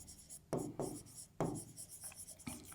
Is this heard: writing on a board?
yes